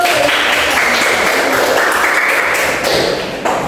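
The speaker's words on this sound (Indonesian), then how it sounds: "Ya, beri tepuk tangan dulu" Classroom applause from students in an Indonesian school lesson, steady and loud, filling the whole stretch before tapering slightly at the end.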